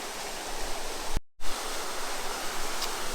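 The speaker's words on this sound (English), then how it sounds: "That is a cool waterfall." Steady broadband rush of a waterfall at Indian Falls beside a creek and bluffs, loud and continuous apart from a brief dropout near the middle.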